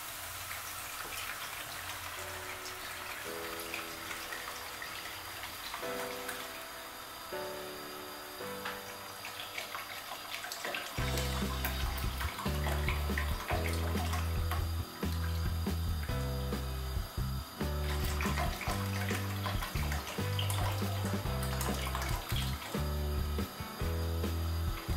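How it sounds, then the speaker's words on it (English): Milk poured into an onion soup in a Roman-style cooking setting, a liquid splash and trickle with clinking mechanical clicks, followed by louder rhythmic thumping sounds in the second half. "Let's add our milk."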